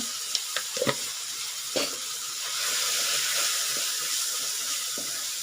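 Soya chunks cook in a pan with tomato and onion, giving a steady close sizzle and hiss. A few sharp clinks and taps of stirring come early, then the frying grows to a continuous, even roar.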